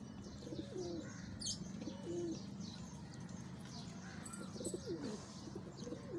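Pigeons coo softly nearby in repeated low, throaty phrases, with a few faint chirps and a brief wing flutter in the background.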